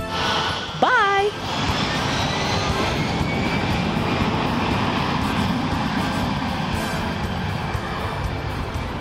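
An Aer Lingus airliner heading for Dublin, watched by plane spotters, gives a steady broadband engine roar throughout, with children's voices and chatter in the background and a brief whistle-like sound near the start.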